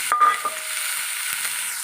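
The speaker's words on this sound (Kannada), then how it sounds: "ಸಣ್ಣಕ್ಕೆ ಹೀರೆಕಾಯನ್ನು ಹಾಕೋತಾ ಇದ್ದೀನಿ" Chopped ridge gourd drops into hot oil in a pan, giving a brief sizzle and stir after a couple of quick clatters, then a steady soft frying hiss.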